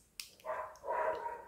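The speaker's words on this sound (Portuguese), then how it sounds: "tem os cachorros latindo na vizinha" Faint, muffled barking from a couple of dogs at a neighbor's house, two brief bursts over quiet background.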